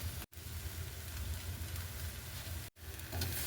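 Masala with chilli powder sautéing in a pan on a stove: a steady, soft sizzle and crackle runs throughout at low volume, broken by two brief silences.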